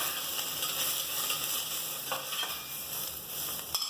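Chopped onion frying for vegetable pulao, a continuous bright sizzle close up, broken by a few spatula scrapes and taps on the pan, with no talking.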